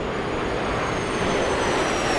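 Steady, loud propeller-engine drone of an OV-10 Bronco aircraft in the DCS flight simulator game, continuous broadband hum with no talk over it.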